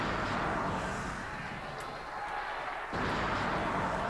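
Grenade blasts in the Star Wars KotOR game land as deep, booming thuds, one early and another heavier burst near the end, over a steady rumbling background.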